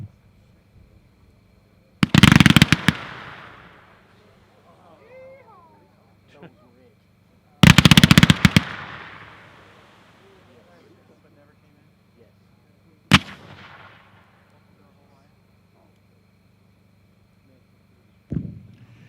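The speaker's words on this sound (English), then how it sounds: "Number 10 is a ghost sweep and super sweeps. These are 3-1, 15 shot," Ghost Sweep firework cake loaded with 15-shot 40 mm fans, heard as sharp loud bursts fired in separated volleys several seconds apart, each crackling briefly before fading, with a faint steady hum underneath.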